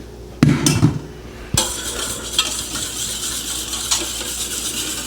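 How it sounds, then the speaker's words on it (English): Buttermilk whisked by hand into scratch pancake batter for blueberry pancakes: a few sharp clinks and scrapes against the bowl, then a softer, steady stirring rustle, close up with no talking. "Just a little whisk like that, looks good."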